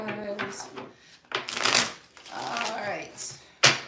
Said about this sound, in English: Let me just shuffle this real quick.